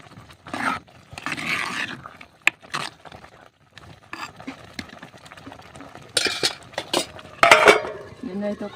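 Pumpkin curry being stirred in a pot gives intermittent scraping and clinks of a spoon against metal, in short uneven bursts with quiet gaps.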